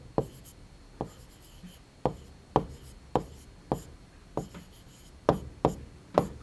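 A pen writes an answer by hand on a primary-school maths worksheet, making a row of short, crisp strokes and taps at a fairly even pace, close and quiet, with no talking.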